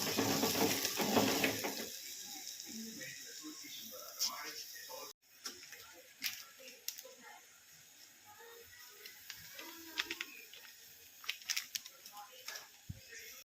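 A spoon scrapes and clinks in a pan as red chili powder is worked into a chicken masala, light irregular ticks and scrapes under a voice talking over the cooking.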